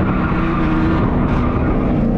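A Dodge Super Bee drift car spins out on a track, its engine roaring loud and close under excited talk and shouting.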